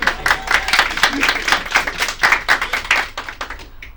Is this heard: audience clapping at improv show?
yes